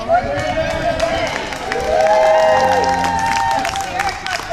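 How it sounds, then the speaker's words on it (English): A crowd at an anti-TPP rally claps and cheers in a round of applause, a moderate swell of hands and voices that grows louder midway, mixed with background chatter. "How about a round of applause for Morgan, who has organized the event?"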